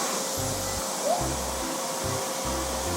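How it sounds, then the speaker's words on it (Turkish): A parent sweeps or vacuums a home floor to clean up spilled potato chips, producing a steady broadband whoosh with a few low pulsing thumps and no talking. "Süpür bakalım bakalım güzelce güzelce güzelce süpür"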